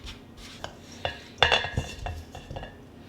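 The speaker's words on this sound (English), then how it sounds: "now I stir it up" Utensil stirring a dough mixture in a bowl, a series of light clinks and scrapes against the bowl with a few sharper knocks, close up and unhurried.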